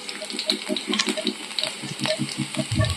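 Chopped chillies sizzle in hot oil in a wok for a Maggi noodle recipe, a close, steady fry broken by rhythmic scraping and clicking as they are stirred.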